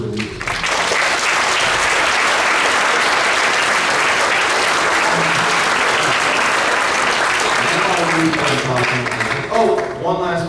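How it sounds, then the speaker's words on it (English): Loud, sustained applause from an audience at a middle school eighth grade band concert, dense clapping filling most of the stretch before a voice speaks as it fades near the end. "one big, big round of applause for both the people sitting down here and the people up here"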